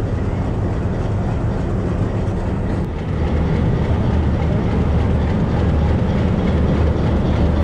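The Mehar Express passenger train in Pakistan, heard from inside a coach, gives off a loud, continuous low rumble with rhythmic wheel clatter as it rolls steadily. Nobody talks.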